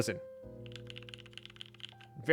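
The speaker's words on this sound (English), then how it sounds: "So the keyboard we just typed on was linears, right?" Rapid, soft typing on a linear mechanical keyboard with quick muted keystrokes for about two seconds, framed by brief speech at the start and end.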